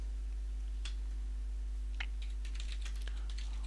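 Sparse keystrokes on a computer keyboard while entering network configuration commands on a Brocade ICX switch, a few scattered clicks over a steady low hum, with no speech.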